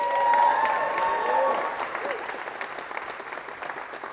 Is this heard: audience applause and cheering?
yes